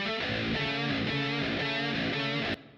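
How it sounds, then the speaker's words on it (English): Two distorted electric guitars from the metal song "Deeper" by Hate Eternal play together as dense, loud chugging riffs in a steady repeating rhythm, then cut off abruptly near the end. "So the two main guitars together sound like this."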